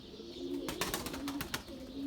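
Pigeon cooing, soft and fairly faint, a few low throaty coos mixed with a quick burst of fluttering or scuffling near the middle, heard without speech.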